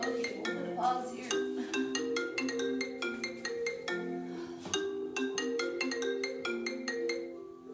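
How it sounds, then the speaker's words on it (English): A phone rings with an incoming call indoors, its bright repeating melodic tones looping for several seconds, loud and near, with no talking. "that was just a phone call."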